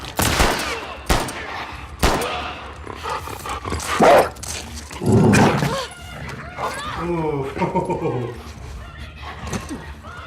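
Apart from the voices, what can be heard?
dogs barking in video game The Last of Us Part II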